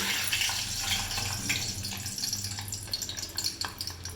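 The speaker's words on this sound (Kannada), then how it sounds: "ಈಗ ಬೇಯಿಸಿರೋಂಥ ಮೊಟ್ಟೆನ ಎಣ್ಣೆ ಒಳಗಡೆ ಹಾಕೋಣ." Boiled eggs frying in hot oil, a dense close crackle and sizzle that stays busy throughout, with no voices.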